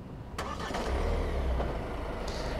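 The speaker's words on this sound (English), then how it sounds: "press hold and wait for the engine to start" A 2024 Kia Sorento engine starts with a short cranking burst and then settles into a low, steady rumble, heard close and moderately loud.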